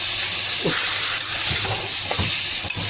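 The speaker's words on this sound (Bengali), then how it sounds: "চিংড়ি মাছটা এখানে ভেজে নিন একটুখানি" Prawns frying in a pan, a steady loud sizzle and hiss with a few soft stirring scrapes and clinks breaking through the constant spitting of hot oil.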